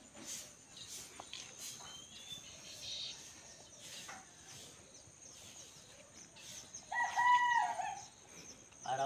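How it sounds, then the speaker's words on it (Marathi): A rooster crows in a rural Konkan village during the rice harvest season, a loud nearby call near the end over a constant background of chirping crickets and distant birds. "आरावला कोंबडा आरावला."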